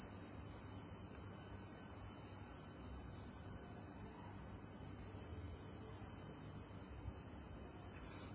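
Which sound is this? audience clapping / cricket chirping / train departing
cricket chirping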